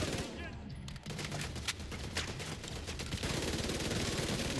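Turret gunfire rattles in The Division 2, dense rapid bursts of shots layered with game effects, loud and continuous throughout.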